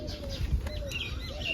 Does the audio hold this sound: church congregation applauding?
no